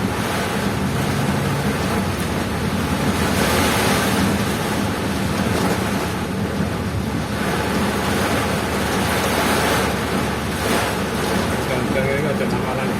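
Heavy rain and strong wind buffet along the Mojokerto–Krian road, a constant loud roar of wind noise and rushing water that fills the whole stretch, with people talking underneath.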